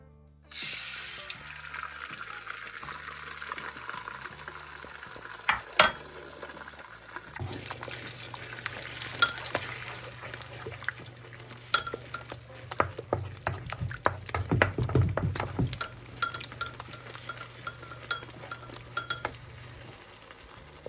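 Eggs, salted, are stirred and frying in a pot, giving a steady sizzle with repeated scraping and clinking of the utensil against the pot, close and continuous.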